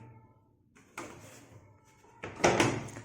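The plastic detergent drawer of a Fresh 11 kg washing machine slides and knocks as it is opened or closed, with a lighter scrape and then a louder clunk up close over a low background hum.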